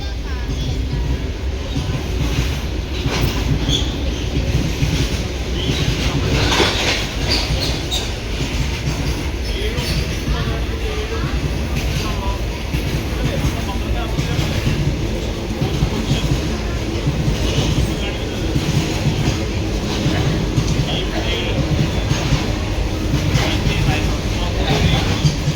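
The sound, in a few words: goods train passing by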